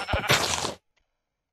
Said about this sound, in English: Why do sheep take so long to kill